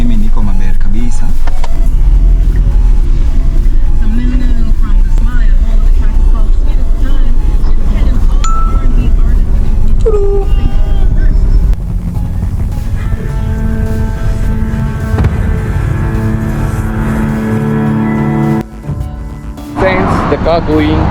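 A safari vehicle drives through Hell's Gate National Park with a loud, constant engine and road rumble. People talk over it, and the engine tone shifts in the second half.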